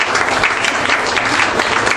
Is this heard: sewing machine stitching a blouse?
no